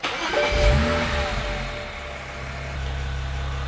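A BMW E92 335i with a swapped N54 twin-turbo engine starting warm: a brief cranking burst and rev flare, then a steady, close idle settling down.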